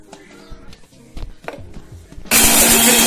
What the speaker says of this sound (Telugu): ఇప్పుడు దీన్ని ఫస్ట్గా గ్రైండ్ చేసుకుందాం మనం.